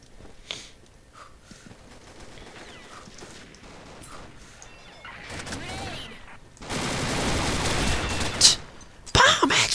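Game gunfire in a Combat Arms round from a G36E Valkyrie rifle and a CZ Scorpion EVO 3 A1 submachine gun, with scattered shots early on and then a dense, louder burst of automatic fire toward the end.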